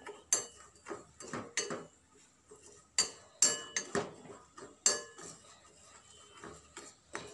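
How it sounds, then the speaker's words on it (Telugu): Sugar melting into caramel in a pan is stirred with a metal utensil, giving close, sharp, irregular clinks and scrapes against the metal with quiet gaps between strokes. "ఇలా కలుపుతూ ఉండాలి ఇదంతా కరిగి బ్లాక్ కలర్లో వచ్చేస్తుందండి"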